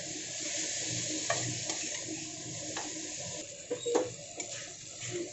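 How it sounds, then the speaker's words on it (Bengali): Chopped tomatoes fry in a pan with a constant bright sizzle, broken by occasional scrapes and knocks of a spoon stirring against the metal. "এবার এটাকে আমি একটু ভালো করে ভেজে নেব"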